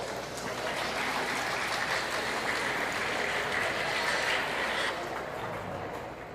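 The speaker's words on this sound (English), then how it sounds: "Let's give them a round of applause as they go out." Audience applause at a swine show fills the whole stretch as a dense, steady clatter of clapping, loud and sustained before easing slightly at the end.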